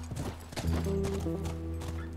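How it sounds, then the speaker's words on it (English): Horse hooves clip-clop in The Last of Us, a quick, close run of hoof strikes on hard ground with faint tonal game sounds underneath. "You're really riding horses out here"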